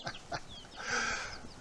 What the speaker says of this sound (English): These are supposed to all be hens here. The ones we hatched, we have no idea. With our luck, there'll be a lot of roosters.